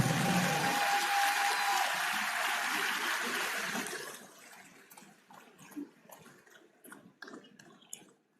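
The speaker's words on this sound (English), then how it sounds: "another round of applause" A conference hall audience at the Nigerian Bar Association gives a dense round of applause that holds steady for about four seconds, then thins into scattered claps and quiet room noise.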